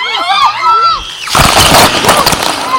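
Strong cascade of water pouring down from above at a resort water attraction, a sudden loud broadband rush with splashing that begins partway in and continues, with people talking over it before and during.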